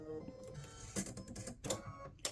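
A home embroidery machine sews the placement stitch for a Halloween cowboy ghost patch on fabric, giving a quiet mechanical whir with a few brief louder clacks and bursts, and no talking.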